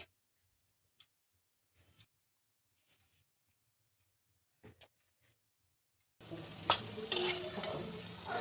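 Pointed gourd fritters frying in oil, first mostly quiet with sparse clicks and scrapes, then a loud, dense sizzle with bubbling bursting in for the last couple of seconds.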